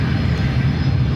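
A United Airlines Boeing 757-200 at San Francisco airport gives a steady, broad jet-engine roar, heard at a distance for a moment with no voices over it.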